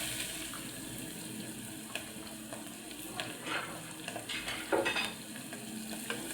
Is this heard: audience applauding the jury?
no